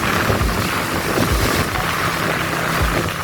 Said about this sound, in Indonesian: suasana sore ini dengan angin yang lumayan keras tapi enak banget